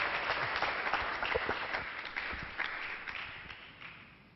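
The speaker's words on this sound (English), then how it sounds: "Let's give him a nice round of applause." An audience at a Sunday devotional gathering applauds, the clapping dense and moderately loud at first and then gradually thinning and fading toward the end.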